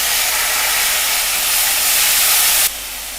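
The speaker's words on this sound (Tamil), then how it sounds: "பூண்டுலாம் நல்லா வதங்கினோடனே இந்த தக்காளியை போட்டுக்கலாம்." Tomatoes dropped into hot oil with onion and garlic for a banana flower curry, a loud, close burst of hissing sizzle that steps down to a softer steady hiss near the end.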